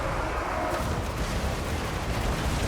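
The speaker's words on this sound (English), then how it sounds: "More artillery. Keep firing." Artillery fire in the Total War: Warhammer 2 video game forms a dense, continuous rumble of overlapping booms and blasts, loud and unbroken throughout with no distinct single shots standing out.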